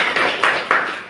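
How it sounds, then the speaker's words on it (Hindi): Hindi audience at a motivational talk claps together, a dense crackling wash of many hands with a few swelling bursts, moderately loud and fairly close, fading slightly toward the end. "सभी लोग अपने लिए ताली दें"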